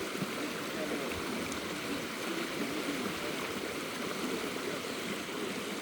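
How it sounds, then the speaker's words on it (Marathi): A rain-swollen stream in the rainy season flows with a continuous, even rushing and gurgling of water, steady and fairly loud throughout with no voices. "खळ खळ खळ खळ वाहत राहते"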